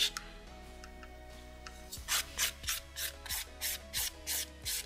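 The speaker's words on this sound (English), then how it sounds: "Then I'm going to file this. Just need a 240 grit file." A 240 grit file rasping over gel nail polish in about nine short, even back-and-forth strokes, close and crisp, beginning after a quiet pause.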